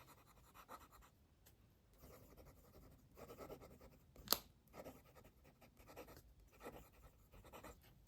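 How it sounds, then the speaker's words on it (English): A Gravitas Vac 2.0 fountain pen writes with dark blue ink on paper, giving soft, steady nib scratches in short strokes with brief pauses, fairly quiet and close, plus one sharper tap partway through. "Let's do some writing."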